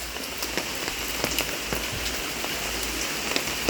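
Heavy rain pours down around a house, a dense, steady hiss with scattered sharper drop impacts close by, continuous and loud throughout with no talking.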